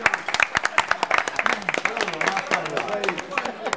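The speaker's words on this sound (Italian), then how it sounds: "Riuscire a fare un applauso a Pasquale." Birthday party guests clapping for a fiftieth birthday, a brisk burst of sharp close handclaps from a small group, with voices chattering and talking over the clapping throughout.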